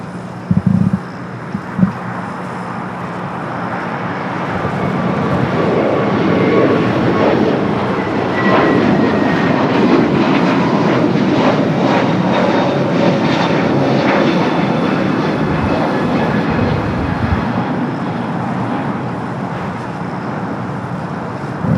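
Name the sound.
airliner at LAX airport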